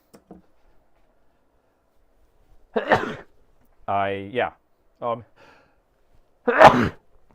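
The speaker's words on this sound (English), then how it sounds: "double sneeze." Two sharp sneezes in quick succession, close and loud, after a quiet stretch with a few small breaths and vocal sounds around them.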